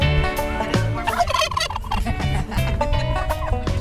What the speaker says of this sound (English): A lot of people just don't get to experience petting a turkey.